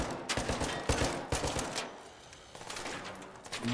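Enemy gunfire in ARC Raiders, rapid bursts of automatic shots cracking in clusters, moderately distant and fairly faint, pausing briefly before another volley.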